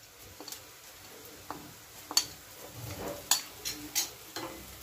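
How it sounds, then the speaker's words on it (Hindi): Cumin seeds frying with onions in hot oil, a quiet sizzle broken by scattered pops and crackles and the odd scrape of a spoon in the pan, heard up close without any talk. "थोड़ा जीरे को भी हम फ्राई कर लेंगे"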